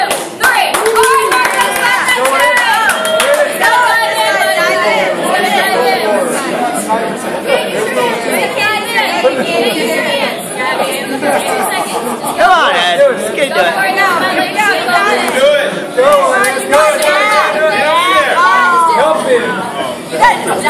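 A group of people, children among them, clap and cheer nonstop for someone named Marcos, rapid hand claps mixed with excited chatter and shouted voices, loud and close throughout.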